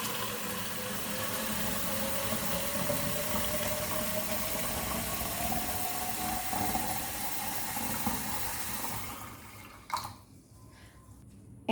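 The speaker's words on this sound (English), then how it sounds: "take a plastic bottle like this and fill up the water" Water pouring into a plastic bottle in a kitchen, a steady rushing fill whose pitch rises as the bottle fills, then the flow cuts off near the end with a few faint drips and handling sounds.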